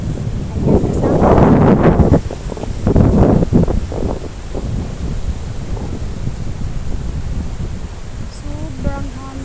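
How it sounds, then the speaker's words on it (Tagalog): Strong seaside wind buffets the microphone in heavy gusts, loudest in the first few seconds before easing to a steady rush, with faint voices underneath. "Sobrang hangin."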